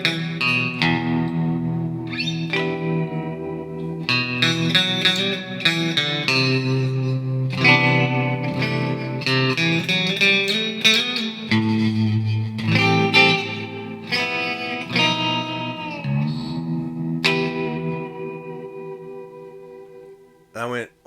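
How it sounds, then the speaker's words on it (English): A Fender Vintera Jazzmaster electric guitar plays a twangy melodic line with heavy reverb and tremolo, giving a washy spaghetti western tone that rings out continuously. "Let me add some more reverb."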